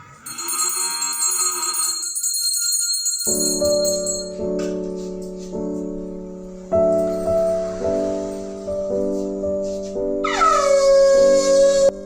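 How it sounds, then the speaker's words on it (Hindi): During a Thursday Lakshmi puja aarti at home, a conch is blown in long, loud sustained blasts, several in succession, with bright ringing at the start and a sharp burst near the end, and no talk. "लास्ट में मैं आरती करके और शंख बजाती हूँ।"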